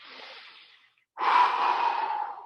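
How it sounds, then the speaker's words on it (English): A deep breath audibly blown out, a soft exhale that fades to silence, then a louder, longer breath, close to the microphone with no talking. "did we take some nice deep breaths and just blow it out?"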